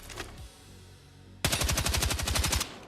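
A mounted gun in Battlefield 6 fires one sustained, evenly paced burst of about a dozen loud, close shots after a near-silent lead-in.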